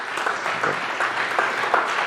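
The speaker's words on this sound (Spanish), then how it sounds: "Fuerte el aplauso." Applause from a live audience at an interview event, a dense, even clapping from many people, steady and moderately loud across the short span.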